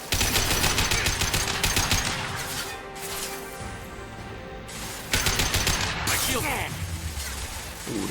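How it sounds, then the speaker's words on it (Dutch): Gun combat in Mass Effect 2 during the rescue of Dr. Kenson: loud bursts of shots and crashing impacts, a quieter stretch, then another volley, all under a voice talking in Dutch. "Oeh, dat was een raak schot van hem."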